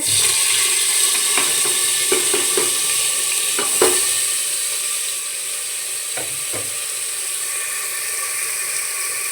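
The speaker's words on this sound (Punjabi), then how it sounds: "ਹੁਣ ਭੁੰਨ ਲਾਂਗੇ ਇਹਨੂੰ ਆਪਾਂ ਕੜਛੀ ਨਾਲ ਹਲਾਉਂਦੇ ਹੋਏ" Paste of green chili, garlic, onion and tomato fries in a pan for a black chickpea curry, sizzling steadily. A ladle scrapes and clacks through it in scattered knocks, close and alone with no talk.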